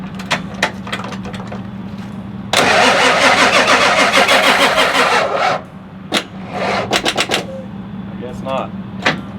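A car engine cranks and turns over with a rapid starter chug lasting a few seconds, close up, surrounded by clicks, knocks and brief voices at a tornado-damaged site, with a 1400 hp Dodge Viper nearby.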